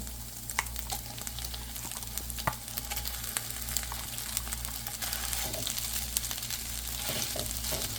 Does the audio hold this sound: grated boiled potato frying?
yes